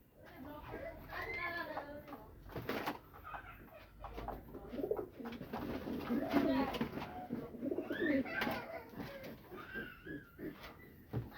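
Pigeons coo repeatedly at close range under steady conversation, with soft rolling calls recurring throughout.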